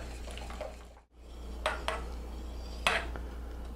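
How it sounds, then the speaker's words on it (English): A spoon stirs cream into a pot of thick broccoli cheddar soup: a few brief scraping strokes against the pot over a steady low hum, close and soft. "Stir that in."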